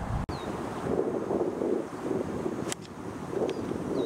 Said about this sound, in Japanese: 風は左から右に吹いています